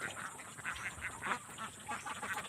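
Farm ducks quack repeatedly in a quick, overlapping chorus, fairly faint and steady throughout with no talk.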